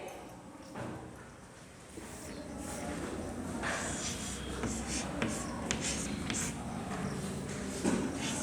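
A pencil writes letters in a notebook in a steady, continuous scratching close to the microphone, with a soft background hum and no talking.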